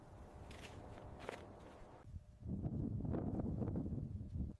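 Footsteps crunching over ice and snow on Mount Everest amid steady high-altitude wind, a continuous rough stepping rhythm that grows louder and closer in the second half.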